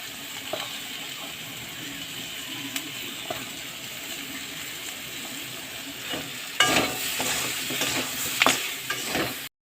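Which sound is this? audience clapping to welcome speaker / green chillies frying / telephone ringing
green chillies frying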